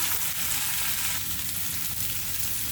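Tomatoes frying in a pan for masala French fries give a steady, close hiss and crackle of sizzling oil, continuous and even, with no talking.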